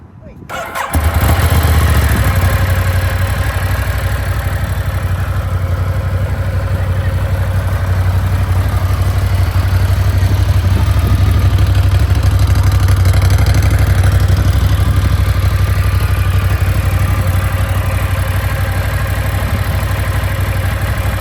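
A 2020 Ducati Monster 1200S with its stock exhaust fires up and settles into a loud, steady idle close by, a deep continuous rumble that holds for the rest of the stretch.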